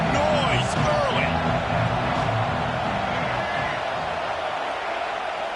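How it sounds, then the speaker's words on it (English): Ohio State Buckeyes football stadium crowd keeps up a dense, constant roar throughout, loud and broad, with a commentator's voice talking over it. "This crowd bringing the energy and noise early."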